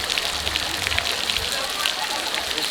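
Water pours and splashes steadily from an elephant-trunk fountain in a Udaipur garden, a continuous bright spattering hiss with faint talk underneath.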